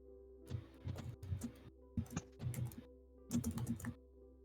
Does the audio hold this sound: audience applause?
no